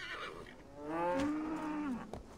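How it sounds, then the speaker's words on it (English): A single drawn-out moo from a cow in the video game Assassin's Creed Valhalla sounds at moderate volume, low and rising slightly before fading, followed by a faint thump. "That cow is trying to bite us."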